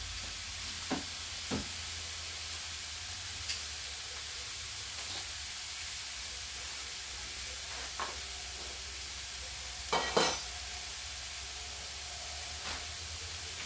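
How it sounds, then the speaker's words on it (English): Food sizzles on a smoking-hot grill, a steady close hiss with a few sharper crackles and pops scattered through, with no talking. "These are going to cook really quick because that grill is smoking hot."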